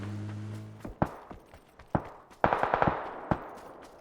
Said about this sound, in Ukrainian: Бот якийсь стріляє, Андрюха, та.